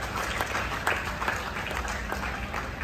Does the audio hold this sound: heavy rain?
no